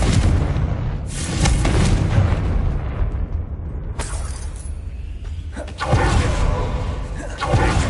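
Spell explosions from Confringo in Hogwarts Legacy, a video game: loud booming blasts with shattering crackle, one near the start and sharper bursts around four and six seconds, over a rumbling bed.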